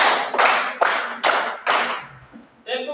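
Five sharp hand claps in a steady rhythm, counted by a classroom of standing students, loud and close, followed by a brief pause and the start of talking.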